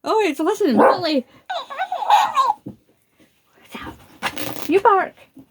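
A dog whimpers and gives short yelping barks in bursts close by, broken by a brief pause, with a person talking around the sounds.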